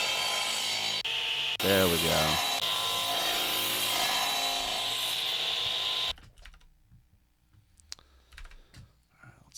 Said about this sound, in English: electric saw. Or maybe like a buzz saw.